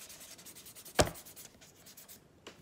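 A drawing of a mouse made on paper, heard as a faint, quiet scene with one sharp scratchy stroke and a softer one moments later.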